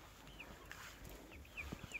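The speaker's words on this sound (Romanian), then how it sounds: "Am dat drumul la puișorii de Australo prin curte." Young Australorp chickens, about three months old, cluck softly in a yard, with faint scattered calls over a quiet outdoor background.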